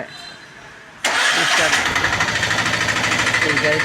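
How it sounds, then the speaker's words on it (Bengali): After a second of quiet background, a CNG auto-rickshaw's small engine abruptly starts and settles into a loud, rapid rattling run close by. "এখন গাড়িটা স্টার্ট দেওয়া হবে"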